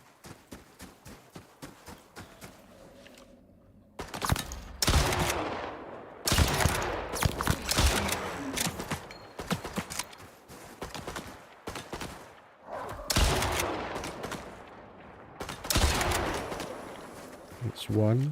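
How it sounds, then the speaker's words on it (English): Explosive rounds fired in the survival game ICARUS: sharp, loud blasts in rapid, uneven bursts, some clustered and echoing, with brief quiet gaps and a voice now and then. "I'm fucking shooting the explode rounds"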